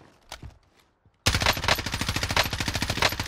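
Video game gunfire: a few faint shots, then a loud sustained burst of rapid automatic fire that runs to the end, close and dense, with no talking.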